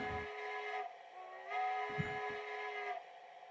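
Steam whistle from an ESU sound decoder on a Big Boy model train sounds in long, fairly faint blasts with short chuffs in between, coming from a small speaker, thin and tinny.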